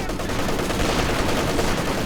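A Maxim machine gun fires in the Company of Heroes 2 video game as a dense, continuous clatter of gunfire, loud and steady throughout the short stretch, with other battlefield noise mixed in.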